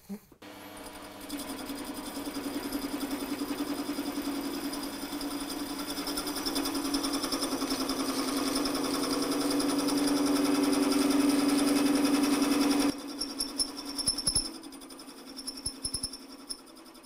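A Holzmann ED 750 FDQ metal lathe turns stainless steel, producing a steady close motor whine and cutting hum that builds in loudness for about twelve seconds, then drops to a quieter running tone with a few clicks.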